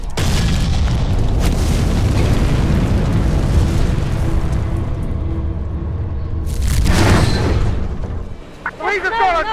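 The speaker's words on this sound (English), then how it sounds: "The howitzer's ready! On standby!" A howitzer in the video game Ground Zero fires and its shells explode, producing a sustained heavy rumble of booms with a louder burst late on, under excited shouting voices.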